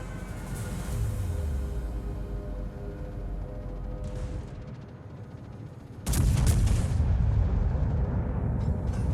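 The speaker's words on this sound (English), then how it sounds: "We're gonna get another salvo on her before that." Heavy battleship main-gun salvos in World of Warships from a British battleship, with a deep rumbling boom early on and a louder, sharper blast near the end over a low continuous engine drone.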